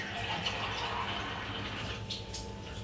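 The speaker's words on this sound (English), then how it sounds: "put a little bit of water on it like this and wash it off" Water runs from a tap as dry bits are rinsed off a red onion, a steady splashing wash with faint dripping near the close.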